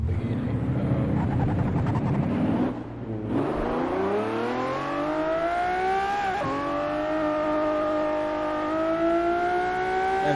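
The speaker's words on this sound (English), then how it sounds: "Right, so now we're in the Murcielago Lamborghini." A Lamborghini Murcielago in the racing game Assetto Corsa revs hard through its gears, the engine note climbing steadily with a brief cut at a shift, loud and close throughout with a faint tire squeal.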